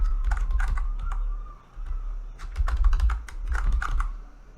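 Keys clatter in quick, uneven bursts as a password is typed on a computer keyboard during a VMware ESXi 6.7 installer setup, close and fairly loud with brief pauses and no talking.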